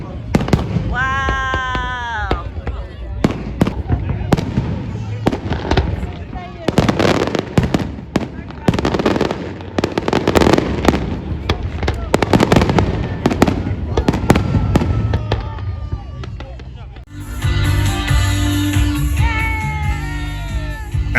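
New Year fireworks boom and crackle continuously, loud and dense, while a crowd cheers and whistles; the bursts thin out near the end.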